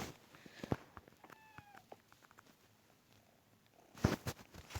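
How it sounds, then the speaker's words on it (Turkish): Domestic cat close by, a soft purr with a brief meow partway through, faint and low among small rustles, followed by a louder burst of handling noise near the end. "Bak yanımda şu an mırıldanıyor."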